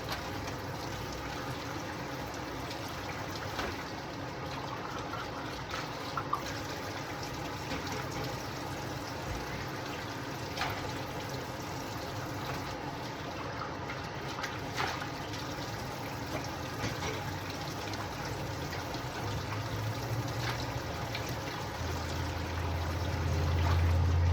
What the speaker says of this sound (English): And it's pretty much wash, rinse, and repeat from here.